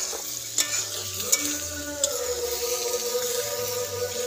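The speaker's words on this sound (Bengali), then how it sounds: "পেঁয়াজটা উলট পালট করছি।" Onions being stirred and fried in a pan for a homemade chicken dish, giving a steady close sizzle with a few sharp scraping clinks of the spoon against the pan.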